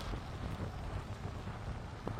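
Wind from storm Benjamin in Isère rushes steadily against the microphone, a quieter, muffled buffeting with small gusty swells and no one speaking.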